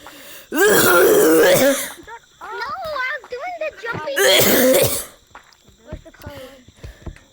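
Two loud, harsh bursts of coughing and throat clearing, each about a second long and close to the microphone, with a young voice talking in short phrases between and after them.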